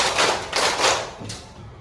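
A class of fourth-grade pupils claps in unison in a quick rhythmic pattern, about four broad, loud bursts packed into under two seconds and ringing slightly in the room.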